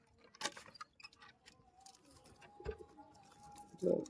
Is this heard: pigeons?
yes